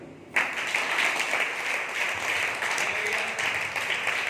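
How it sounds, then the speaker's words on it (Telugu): Church congregation at a Sunday service breaking into applause, a sudden burst of steady clapping that carries on loud and even for several seconds. "చప్పట్లు కొట్టారు."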